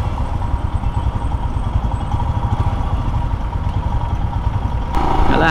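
A 2022 Royal Enfield Himalayan BS6 motorcycle engine idles nearby with a steady low, thumping single-cylinder rumble and light mechanical clatter, growing slightly louder and rougher near the end; no talking.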